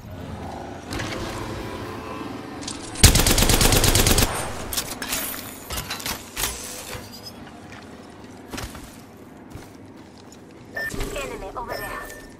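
Gunfire in a video game: a loud, rapid burst of shots lasts about a second, then a few scattered, fainter shots and game noises follow while a person talks.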